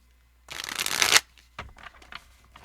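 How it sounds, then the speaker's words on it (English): A deck of message cards is shuffled in one brisk, loud riffling burst, then some lighter card handling and soft flicks follow close up. "let's shuffle this up"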